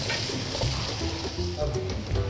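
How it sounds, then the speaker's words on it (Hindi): Rice, about a kilo and soaked beforehand, sizzles steadily in a cup of hot oil as it is stirred to brown, a close, continuous frying hiss with soft scraping stirs and no talk. "1 कप ऑयल में डाल के तो इसको फ्राई कर रहे हैं।"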